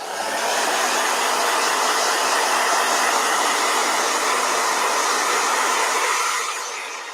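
Blow dryer running continuously at high speed, a loud, even airy whir that starts abruptly and fades slightly as it is switched off near the end, with no voices.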